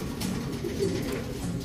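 Pigeons coo in low, throaty, overlapping calls, close and continuous, from a flock of racing birds kept by a fancier in Calumpit, Bulacan, with no talking.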